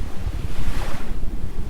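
Pacific ocean surf surges in a loud, close wash of waves mixed with gusting wind buffeting the microphone along the coast of Northern Samar in the Philippines.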